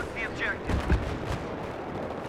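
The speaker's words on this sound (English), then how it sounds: "C4ing a tank is worth any amount of team kills." A tank destroyed with C4 in a multiplayer shooter: one short, muffled explosive boom under people talking, with faint game noise around it.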